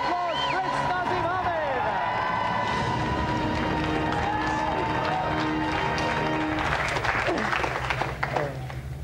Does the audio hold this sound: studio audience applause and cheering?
yes